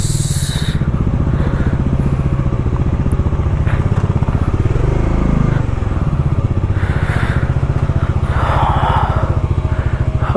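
Motorcycle unloaded of its luggage and ridden along an old road near Khalsi in Ladakh, its engine droning steadily and close throughout, with bumps and clatter from the rough surface and a voice talking over it now and then.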